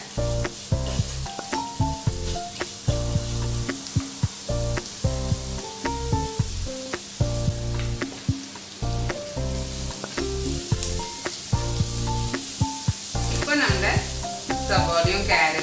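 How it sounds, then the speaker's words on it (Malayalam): Onions and carrots sautéing with salt in a pan for curd rice, a steady sizzle with repeated stirring scrapes, heard under background music. "ഇനി നമ്മുടെ സബോളയും കാരറ്റ് ഒക്കെ ഒന്ന് വാടി വരട്ടെ"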